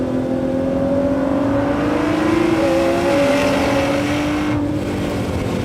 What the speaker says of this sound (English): It's not solely exhaust or induction noise. There's dual clutch gearbox crackle and grind.